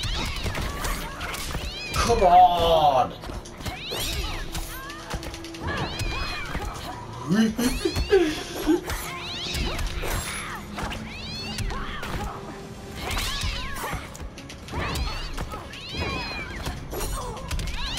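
Cats meowing in Injustice 2 during a Halloween multiverse match, short mewing calls scattered over busy game effects and mechanical clicks, with a player talking over them.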